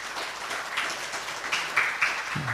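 Audience applause at a marine technology conference following an award announcement, a steady wash of clapping hands at moderate level with a few sharper peaks.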